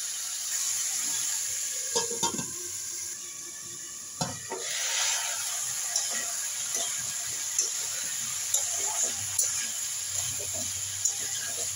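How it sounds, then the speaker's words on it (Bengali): Potatoes frying in a pan for a fish-head curry, a continuous close sizzle with occasional scraping stirs and clinks of a utensil against the pan. "আলুগুলো সুন্দর করে লালা করে ভেজে নেবো।"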